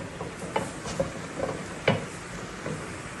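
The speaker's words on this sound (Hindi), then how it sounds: "अब मैं इन्हें मिक्स कर लूँगा" Spoon stirring spices into mutton yakhni soup in a pot, a few soft scraping and clinking taps spaced irregularly, faint and close, with a low background hiss.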